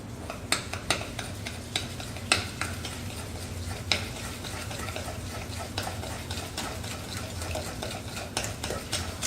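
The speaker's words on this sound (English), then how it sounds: "all you want to do is stir all this together to make sure that you get a nice mixture" Melted butter being stirred into an oatmeal raisin cookie mixture in a bowl, giving a continuous soft scraping and swishing with occasional light clinks of the utensil, close and steady throughout.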